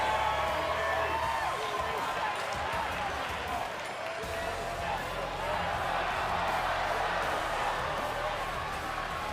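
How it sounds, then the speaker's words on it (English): Arena crowd at Full Sail cheering for Ricochet in the WWE 2K20 wrestling video game, a steady, dense roar with whoops and claps that holds at even loudness throughout. "You can see the crowd in Full Sail love themselves some Ricochet."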